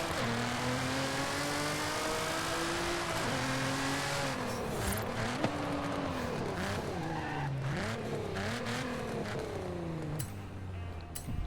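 A Nissan Z Nismo in a racing video game drifts sideways, its engine droning and revving up and down while tires squeal continuously in long wavering screeches, loud and unbroken across the whole stretch.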